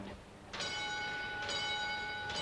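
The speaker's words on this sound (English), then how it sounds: "the signal bells will start, the bells will signal, then the music will start" Signal bells in a brass band piece, two bright ringing bell strikes about a second apart with long sustaining tones, moderately faint and alone.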